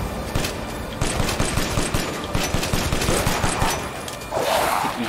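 Rapid automatic gunfire in Resident Evil Village, a fast steady stream of loud shots repeating across the whole stretch with no voices over it.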